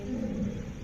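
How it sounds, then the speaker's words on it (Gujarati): A low, rumbling roar of a big cat, deep and sustained for under a second, heard at a moderate distance. "પેલો સિંહ અહીંયા છે બોલે છે ને અવાજ આવે તો બીક લાગે"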